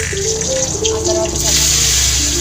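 Water runs steadily from a tap in a kitchen while soaked dried red chillies and lentils for tomato rasam are rinsed, a loud continuous gush with faint voices underneath.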